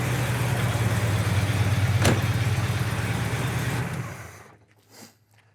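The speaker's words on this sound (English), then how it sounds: "The choke is still on, so it's idling high right now" A 1971 Oldsmobile 442 convertible's 455 V8 idles high on choke, a loud steady rumble close by that cuts off near the end into quiet.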